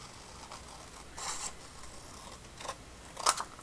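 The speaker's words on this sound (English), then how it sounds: "this is just a smidge too long, so I'm just gonna cut it" Scissors cut through a paper page for a vintage-style flipbook, a few quiet, brief snips and rustles close to the mic against a faint background hiss, with the last cut the sharpest.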